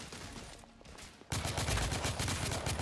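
Sudden heavy gunfire in The Order: 1886 on PS4 erupts after a quieter stretch, a dense, loud volley of rapid shots continuing to the end with no voices.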